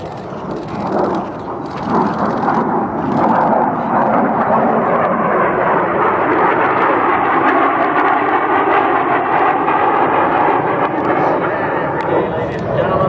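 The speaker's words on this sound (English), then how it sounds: "the B-2 Spirit for side flight. He'll select afterburner and show center and go for the climb" A B-2 Spirit stealth bomber flies over the crowd at the 2009 Edwards AFB air show, a loud, sustained roar that swells and rolls on steadily for more than ten seconds.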